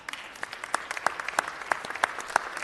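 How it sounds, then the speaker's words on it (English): Sparse applause at a city council meeting, a small group of people clapping with clear distinct individual claps in a loose, uneven rhythm, moderately close and without talk over it. "Give him a round of applause."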